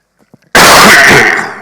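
A single loud, harsh cough from a speaker at a cybersecurity conference bursts out close by after a few faint breaths, then trails off.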